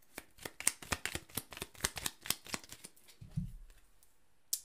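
Tarot oracle cards shuffled in quick riffling bursts, a steady run of crisp flicks close by with a soft thump near the end, no talking.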